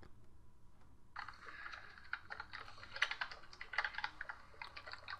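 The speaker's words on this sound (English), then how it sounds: "Your keyboard is so chunky." Someone types rapidly on a chunky computer keyboard, producing quiet, irregular bursts of clacking keystrokes that start after a brief pause and continue up close.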